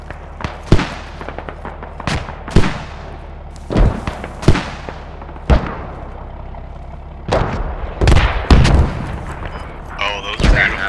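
Repeated mortar shell blasts in the military shooter Squad during a US Army invasion battle in Afghanistan, a string of sharp booms some near and loud, others distant, with voices talking between them.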